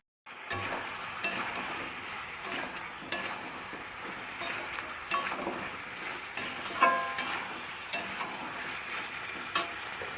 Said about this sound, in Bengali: এখন আমি চিকেনটাকে এর মধ্যে দিয়ে ভালো করে নেড়ে চুড়ে রান্না করলেই আমার চিলি চিকেন রেডি হয়ে যাবে